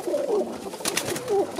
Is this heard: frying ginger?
no